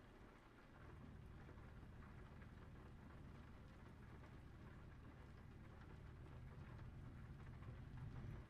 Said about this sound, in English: Definitely raining, eh?